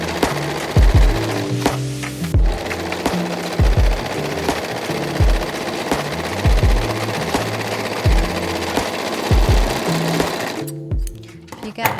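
Sewing machine stitching fabric in short repeated bursts of steady mechanical whirring with brief pauses between runs, while a person talks over it.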